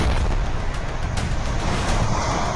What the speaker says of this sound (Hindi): सेना ने इस पूरे घर को ही धमाके से उड़ा दिया।